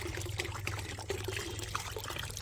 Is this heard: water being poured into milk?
yes